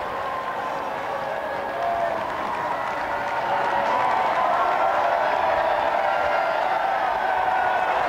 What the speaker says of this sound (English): a big crowd surging across Whitehall to his car, with the police trying to hold them back